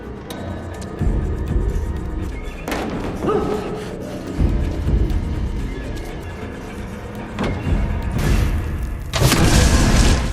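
Explosion scene from the 2007 film Wrong Turn, heard as heavy booms and thuds over several seconds, with loud bursts and crashing debris-like noise that swell again near the end.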